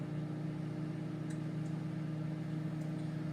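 A Magic Chef microwave oven runs on a two-minute cook, giving a steady, even hum with a constant low drone and no pauses.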